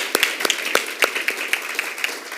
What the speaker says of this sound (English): Why don't you clap hands for yourself